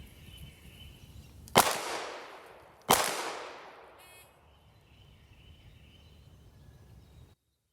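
Two loud pistol shots from a Glock 19 on a law-enforcement qualification range, about a second apart, each a sharp crack followed by a long fading echo over quiet outdoor background.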